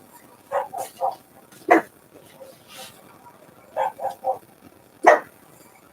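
A dog in a video game barking in short, sharp yips, clustered in quick groups of two or three with pauses between, moderately close and clear over quiet background.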